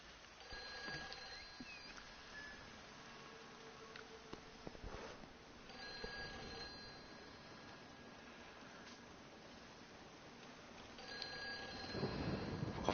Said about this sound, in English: There's a phone ringing from in here.